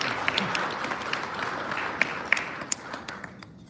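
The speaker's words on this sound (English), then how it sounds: "So let's give each other a round of applause." Audience applause at a civil rights organization's banquet in Minnesota, a steady wash of many hands clapping with a few sharper individual claps standing out, fading toward the end.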